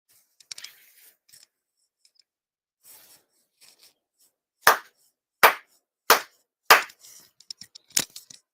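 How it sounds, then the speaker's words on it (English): Four sharp ceremonial hand claps at a Shinto monthly ceremony ring out evenly spaced in a quiet room, preceded by faint rustling and followed by light handling noises. "4 sincere claps."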